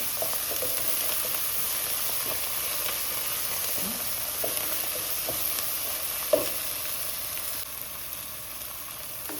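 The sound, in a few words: tomato sautéing in a pan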